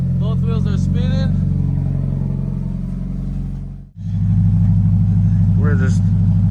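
A Toyota FRS with a welded differential sits running while both wheels spin, a loud, steady close engine drone that briefly dips and returns, with someone talking over it.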